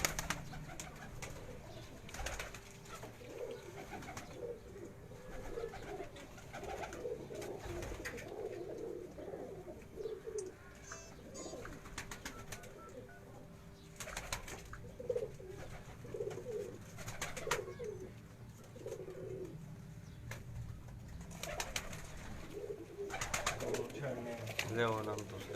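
Badshah breed pigeons coo in a breeder's loft at Jalalpur, soft repeated low calls spread through the clip alongside quiet background voices and occasional rustling.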